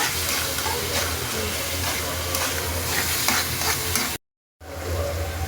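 Garlic and onion paste with spices sautéing in a pan, giving a loud steady sizzle and fry that runs with stirring scrapes, then drops out briefly to silence before resuming more faintly.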